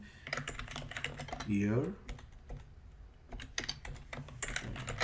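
Keys clatter on a computer keyboard as a year and month are entered into an Excel attendance dashboard, a close burst of quick taps around a voice, the typing quiet and crisp.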